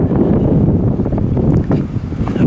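Wind gusts buffet the microphone at the Prince's Rock lookout in Wentworth Falls, a loud, continuous low roar that rises and falls unevenly.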